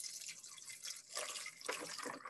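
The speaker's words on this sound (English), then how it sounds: "What would happen if I start pouring water in there?" Water poured from close by onto frozen grapes in an ice cube tray, a soft, uneven splashing and trickling that swells in two bursts over a couple of seconds.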